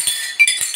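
Glass jars and bottles knocking together, a quick cluster of bright clinks within under a second, close and fairly loud.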